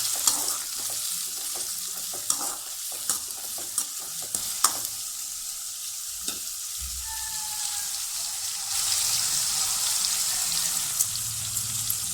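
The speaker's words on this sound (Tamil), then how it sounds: "நாலு பெரிய வெங்காயம் நல்லா கட் பண்ணி போட்டுக்கலாம்" Chopped onions sizzle steadily in a hot pan for a village-style fish curry, with light stirring taps and scrapes early on and a constant frying hiss throughout, close and moderately quiet.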